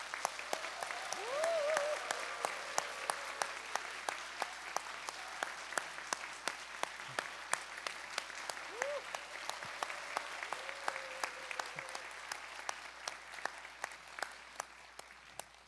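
Sustained applause from a church congregation celebrating elderly graduates of a senior faith course at a training completion ceremony, steady dense clapping throughout with a swell near the start, tapering slightly at the end.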